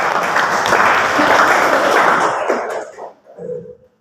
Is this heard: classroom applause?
yes